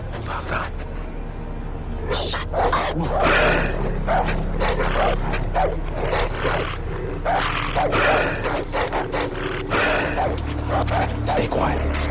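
Dogs barking in the video game Far Cry 3, repeated sharp barks at a steady pace amid dense game ambience, with someone talking over them.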